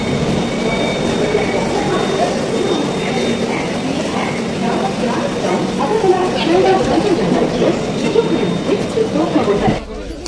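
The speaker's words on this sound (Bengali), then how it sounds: "এই সময়ের মধ্যে ট্রেন ছেড়ে দিয়েছে" A Puri Duronto Express train, the 22201 service from Sealdah to Puri, rumbles steadily along the rails for the whole stretch. A continuous clattering drone runs close and loud from start to finish, and passengers chatter over it.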